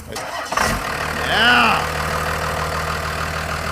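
A Cummins diesel engine fitted in a Cadillac cranks and catches about half a second in, then settles into a steady, loud, even idle with a brief rising whine early on. A short word is spoken near the start.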